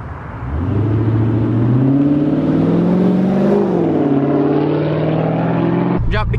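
A rebuilt 2013 Dodge Charger SRT8 engine revs hard during a burnout, a loud, close, sustained roar climbing and wavering in pitch for several seconds before cutting off abruptly.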